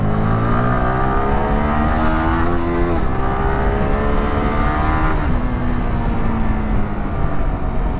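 A motorcycle ridden on a road during a street race involving a Kawasaki Ninja 300, its engine droning loudly and close with rising and shifting revs, steady throughout with no speech.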